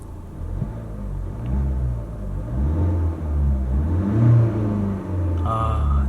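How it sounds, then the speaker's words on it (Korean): The diesel engine of a Mercedes C200d thrums as a low, steady rumble heard from inside the cabin, rising slightly midway, with no one talking over it. "디젤 사운드 들리시죠?"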